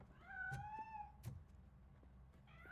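A cat in the video game Robocop: Rogue City meows twice in drawn-out, rising-and-falling cries, with a third starting at the end, fairly close and clear over a low ambient rumble.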